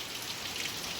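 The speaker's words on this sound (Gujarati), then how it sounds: "વરસાદ એમ કહેવાય ને કે 15-20 મિનિટથી ચાલુ છે" Heavy monsoon rain falls steadily, a dense even hiss of drops on nearby surfaces with no breaks across the brief moment.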